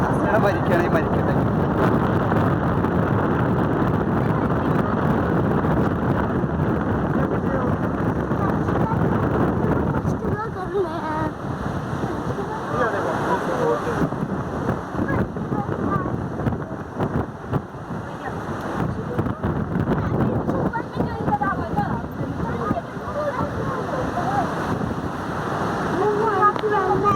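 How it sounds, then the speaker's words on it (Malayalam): Gusty wind blasts the microphone high on the Kovalam lighthouse, a loud sustained roar that eases a little midway, with a voice speaking over it at times. "വാ കാറ്റ്, എന്താ കാറ്റ്, അടിപൊളി."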